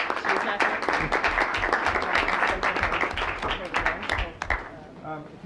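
Audience applauding at a certificate ceremony: a steady, dense patter of many hands clapping close by for about five seconds, thinning near the end, with voices mixed in.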